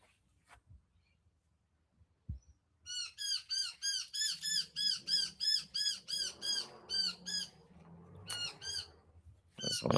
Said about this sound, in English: one of the noisy miners screaming at him.